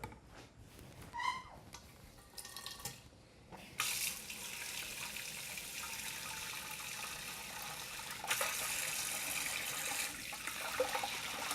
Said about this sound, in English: And we wanna fill it up with cold water.